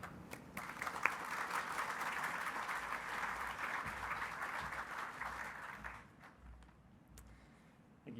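A hall audience at an awards ceremony applauds steadily for a new speaker with a dense, even clapping. It fades after about six seconds into a quieter room with scattered taps.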